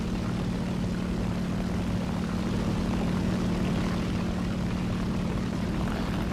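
An aircraft in a naval combat game gives off a continuous propeller engine drone with a steady low hum under broadband rushing noise, loud and unbroken throughout.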